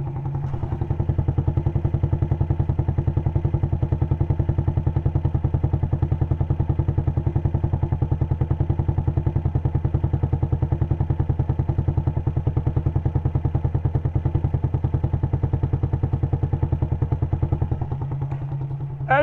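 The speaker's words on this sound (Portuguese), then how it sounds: "vocês viram o som da moto?" A parked motorcycle, left running and unattended, idles steadily with a fast rhythmic chug. It stays close and even for about eighteen seconds before the engine note drops away near the end.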